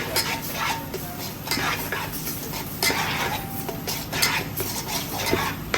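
Chicken parts masala with tomato being stirred in a pan, a close run of spoon scrapes and metallic clinks against the pan over a faint low sizzle, no voices.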